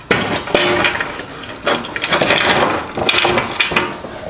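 An aluminum plate slides onto a sidecar mounting pipe with a continuous close metallic scrape, broken by a few sharp knocks and clinks as it shifts into place.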